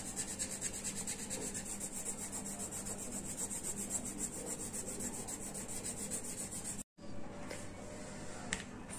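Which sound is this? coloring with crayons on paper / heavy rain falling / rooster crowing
coloring with crayons on paper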